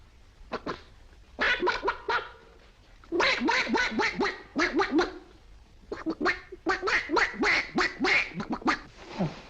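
A person imitates a duck with rapid, nasal quacks in a few rhythmic bursts, loud and close.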